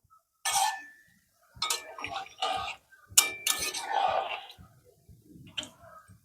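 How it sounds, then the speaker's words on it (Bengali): A spoon stirs a jackfruit and fish-head curry in a pot. Intermittent clinks and scrapes come in short separated bursts at close range. "নেড়ে দেব।"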